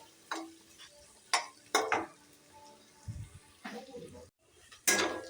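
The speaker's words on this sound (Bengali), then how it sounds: "পেঁয়াজটা দিয়ে দেবো। পেঁয়াজটা একটু ভেজে নেব।" Onions frying in a pan for a Bengali winter radish curry, stirred with a spatula in short scraping, clattering bursts over a low sizzle, close and moderately loud, with brief pauses between strokes.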